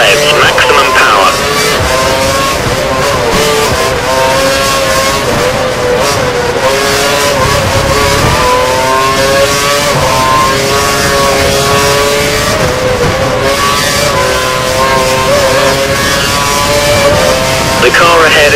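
A Grand Prix race car on track in Hungary runs at full revs and maximum power, a loud, steady high-pitched engine wail with rising and falling tones and radio-style talk over it.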